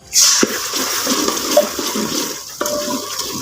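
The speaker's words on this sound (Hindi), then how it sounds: "थोड़ा सा पानी डाल दें" Water poured into masala frying in a pan for chicken kofta curry, making a loud rushing, bubbling sizzle that fills the clip, close and steady, with no talking.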